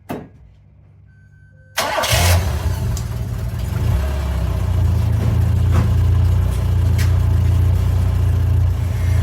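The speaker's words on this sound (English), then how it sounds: "I'm going to go fire the car up right now" A Toyota 4WD Tercel car is started after a moment of near silence, cranking and catching, then settling into a steady, loud idle that grows a little fuller and holds to the end.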